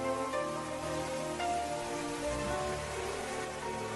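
Rain falls steadily as a continuous wash of droplets, moderately loud and close, with faint tonal sounds underneath.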